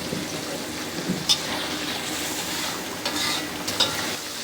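Green chillies fry and are stirred in a pan for a prawn malai curry, giving a steady close sizzle broken by a few sharp spatula clinks and scrapes.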